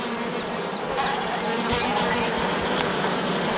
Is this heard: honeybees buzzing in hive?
yes